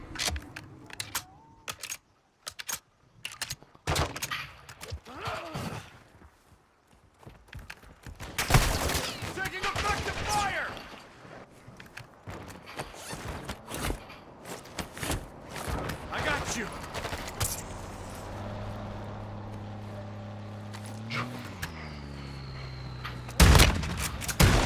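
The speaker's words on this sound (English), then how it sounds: "You are taking effective fire." In a Call of Duty DMZ match, scattered gunshots and short bursts of gunfire crack at varying distances, mixed with game clatter and movement, while voices speak over parts of the action.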